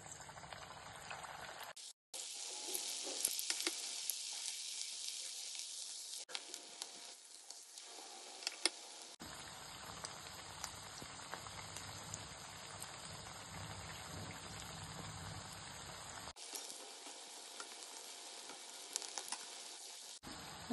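Potato balls frying in hot oil over a lowered flame give a steady, close sizzle and crackle that runs almost throughout, dropping out briefly near the start and again in short gaps.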